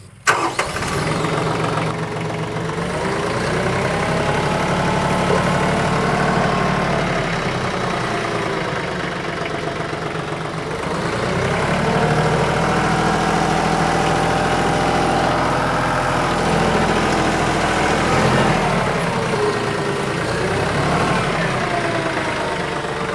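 A tractor fitted with a backhoe runs its engine steadily throughout, a continuous mid-pitched diesel drone with a few slight swells in revving and no talk over it.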